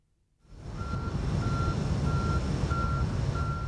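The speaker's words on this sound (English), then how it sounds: "This tanker is delivering sulfur." A truck tanker delivering sulfur sounds regular reversing beeps, five or so evenly spaced tones over a steady, fairly loud engine hum that starts abruptly after a brief silence.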